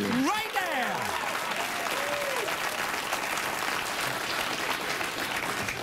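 Loud studio audience applause on a late-night talk show, a full, sustained roar of clapping and crowd noise, with a brief whistle-like sweep and cheering early on.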